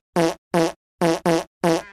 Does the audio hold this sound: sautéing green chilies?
no